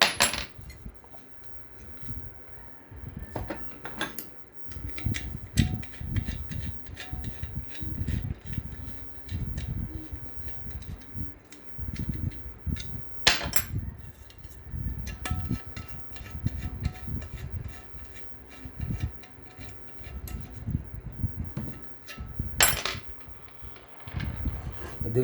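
Small metal screws being unscrewed from a Maxell ceiling fan during a bearing replacement, a scatter of faint clicks, ticks and light metallic taps over a low rumble, with a few sharper clinks standing out alone.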